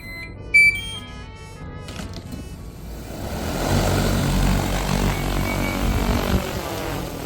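A crop-spraying drone's propellers spin up for an automatic flight, beginning with a few electronic beeps and then a rising whir that grows loud and stays steady.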